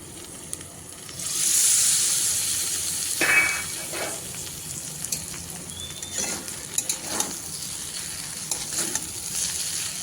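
Vegetables coated in spices sautéing in a pan for a dried-fish dish, a steady soft sizzle with a louder hiss near the start and scattered utensil clinks, close but fairly quiet with no talking.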